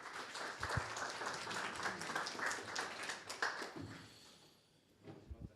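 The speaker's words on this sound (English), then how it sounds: "Another applause, please." An audience at a cybersecurity meetup claps in applause, a dense patter of many hands fairly faint and distant, fading out toward the end with a few scattered claps.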